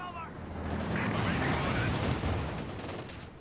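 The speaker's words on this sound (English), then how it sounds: "Here comes some nasty Panzer Rifle volleys" Panzer Rifle volleys crackle in a dense, continuous burst of gunfire during a Company of Heroes 2 battle, with overlapping shots and rumbling booms over a loud combat background while a voice talks over it.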